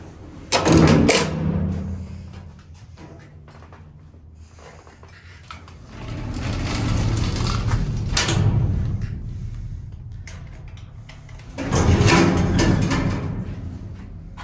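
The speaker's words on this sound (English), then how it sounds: "Let's close the door." A heavy security door on a Montgomery traction freight elevator is dragged shut, producing loud rumbling slides and sharp metallic clanks in three main bursts. Grinding and rattling sounds fill the gaps between the bursts.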